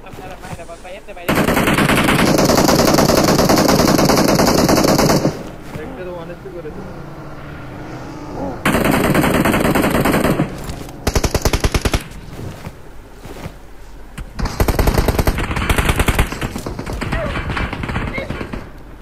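Sustained machine-gun fire in a shooting video game, loud dense bursts lasting several seconds each with quieter gaps between, while someone talks throughout.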